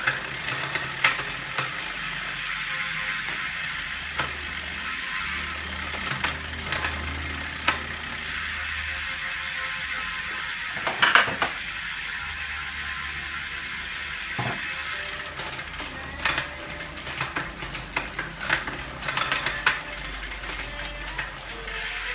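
A bicycle drivetrain fitted with a Rotor QXL chainring being shifted up and down through the gears, giving repeated ratcheting, clicking and whirring mechanical sounds from close by, with no talking.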